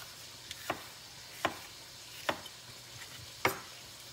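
Bell pepper roughly chopped with a knife on a cutting board in a home kitchen, four sharp, distinct knife strikes spaced about a second apart, close and fairly quiet with no talking.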